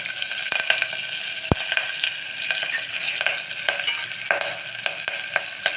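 Shallots and drumstick leaves sauté in a pan, a steady close sizzle broken by frequent sharp spatula clicks and scrapes against the metal, one louder knock near the middle, with no talking.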